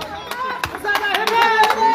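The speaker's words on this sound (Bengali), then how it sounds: "তার জন্য একটা জোরে হাততালি।" Audience clapping at a quiz competition prize distribution ceremony for the best quizzer, scattered sharp claps rising in a loose rhythm beneath a voice speaking.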